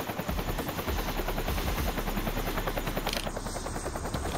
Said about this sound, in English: Oh, there's the helicopter.